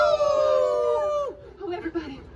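A crowd on an amusement park boat ride imitates a wolf howl, several voices rising and sliding down together loud and close, then breaking into scattered yips and laughter.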